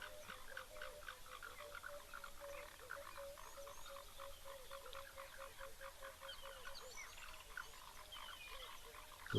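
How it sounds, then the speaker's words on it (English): Frogs croak steadily at a waterhole, a dense chorus of repeated calls pulsing at an even rate throughout, with faint bird chirps scattered above the calls. "Well, the frogs are also coming out."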